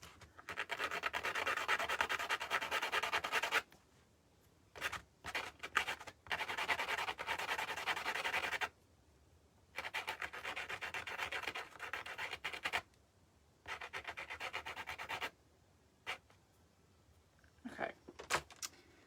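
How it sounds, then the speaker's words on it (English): Sandpaper rubs back and forth on the end of a wooden piece for a rustic birdhouse, close and scratchy, in several bursts of a few seconds each separated by short silences. "I'm gonna sand the end."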